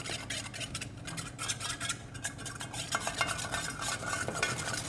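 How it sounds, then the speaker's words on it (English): A spoon scrapes and clinks as it stirs honey into a mixture in a bowl, close up and steady for several seconds with no talking. "And then you can stir that up a little bit."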